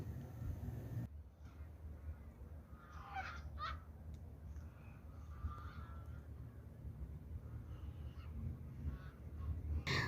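Distant duck calls, a few scattered honking quacks rising faintly over a steady outdoor rumble and hiss, during heavy snowfall in Murree.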